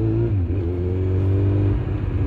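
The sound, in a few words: Kawasaki Z1000 motorcycle revving with full Accra exhaust line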